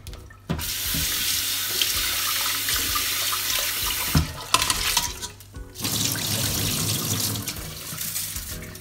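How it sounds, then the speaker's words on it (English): Sushi rice rinsed under a running kitchen tap, water streaming steadily into a sink with a brief pause midway before the flow resumes, close and loud, no talking. "So I'm gonna rinse it one more time."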